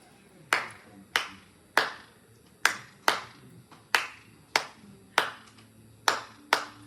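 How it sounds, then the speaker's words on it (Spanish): One person claps hands alone at a steady, unhurried pace, about ten sharp claps, each ringing briefly in a quiet room at a school gathering. "Raúl, ¿podrías aplaudir?"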